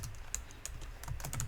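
Close typing on a computer keyboard: a quick, irregular run of light key clicks and taps over about a second and a half, with no talking.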